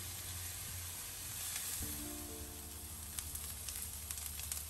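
Onions sizzle and crackle softly in a hot pan, a steady fry with scattered pops. A low hum sits underneath, and no one speaks.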